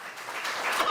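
An outdoor village crowd in Waramuri, Region 1, Guyana, applauds during a presidential visit, with a brief burst of dense, distant-sounding clapping that builds slightly toward the end.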